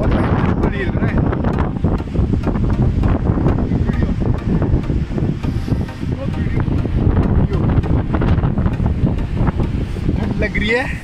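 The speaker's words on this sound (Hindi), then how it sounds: "बहुत तगड़ी ठंडी हवा चल रही है भाई" Strong cold night wind on a swaying bridge near Rishikesh buffets the microphone in a constant close, loud rumble, with faint voices underneath.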